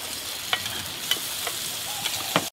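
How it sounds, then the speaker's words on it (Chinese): Pork belly frying on an iron griddle, a steady close sizzle with a few sharp crackles and spatters scattered through. "我再来煎哈"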